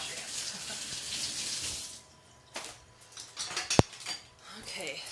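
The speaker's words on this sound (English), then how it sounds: "And then, of course, wash your hands." Tap water runs from a kitchen faucet while hands are washed during donut dough making, a continuous hiss and splash with a few clinks and knocks partway through.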